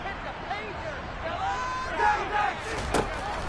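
Home stadium crowd in the Madden 23 football video game, a broad roar of cheering voices that swells and peaks briefly before settling back into steady crowd noise.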